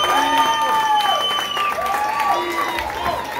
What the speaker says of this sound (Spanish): un aplauso para esta super banda